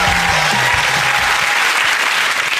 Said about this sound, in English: Let's now have a respectful round of applause for them